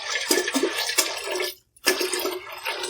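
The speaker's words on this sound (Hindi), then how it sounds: "अब हम इसमें पानी ऐड करेंगे।" Water poured into a pot of soaked mixed lentils, chana, mash, toor and moong dal, a close gushing splash in bursts with a brief silent pause before pouring resumes.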